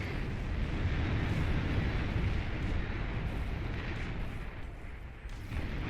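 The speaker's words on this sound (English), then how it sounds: "This pop-up artillery here is going to deny these metal points as well to Andy" Dense, continuous rumble of pop-up artillery and explosions in a Beyond All Reason real-time strategy battle, booming steadily at a fairly constant level throughout.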